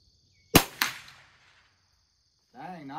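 A .22 LR Christensen Arms rifle fires at a tournament target range, with one sharp close crack and a quick second report, then a quiet pause before a voice begins.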